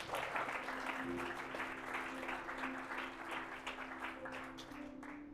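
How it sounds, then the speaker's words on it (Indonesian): A church congregation applauds throughout, a steady dense wash of clapping that stays loud from start to finish, with a sustained musical tone underneath. "Tepuk tangan bagi Kristus."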